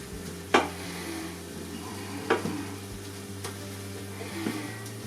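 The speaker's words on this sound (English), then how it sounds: "Give that a stir and let the alcohol burn off." A pan sizzling steadily while the alcohol cooks off, with a few distinct scraping stirs of a utensil against the pan, close and fairly quiet, without any talk.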